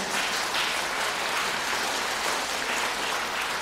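A church congregation at Sunday worship claps steadily to thank the pastor's family, an even wash of many hands at moderate distance, without pause.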